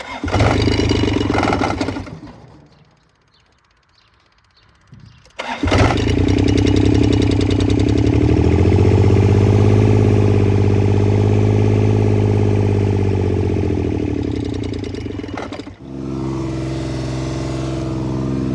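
A John Deere 430 diesel garden tractor engine cranks, goes quiet, then fires up and runs loudly and steadily for a long stretch before the revs dip and settle back.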